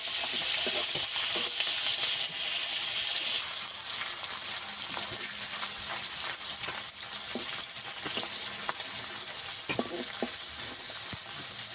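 Hilsa fish pieces frying in hot oil in a pan, a dense continuous sizzle and crackle with occasional stirring scrapes, close and steady throughout with no talking.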